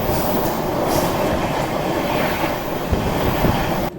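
A Mumbai–Delhi CR Rajdhani Express runs at about 130 km/h in a heavy storm, a loud, steady roar of wheels and rushing air with faint rhythmic clatter, no voices.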